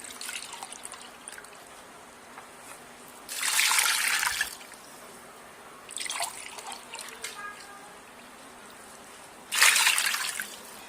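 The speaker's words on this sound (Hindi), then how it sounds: "2 गिलास पानी शामिल करेंगे इसमें।" Two glasses of water poured into a pressure cooker with beef, garlic paste, salt and black pepper, giving three splashing bursts of pouring separated by quiet pauses, close and moderately loud.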